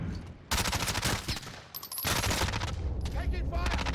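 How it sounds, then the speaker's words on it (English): Video game gunfire in a first-person shooter comes as loud, dense bursts of rapid automatic fire, pausing briefly before resuming with overlapping volleys and electronic game sounds. "Taking fire."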